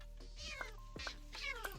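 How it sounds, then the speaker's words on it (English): Cats meow in Minecraft on Hypixel Skyblock, with four short, clear meows spaced about half a second apart, sounding near over a faint steady hum. "Oh, got the cats."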